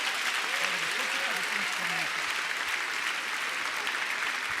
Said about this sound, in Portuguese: Vamos aplaudir essas vidas que estão chegando aqui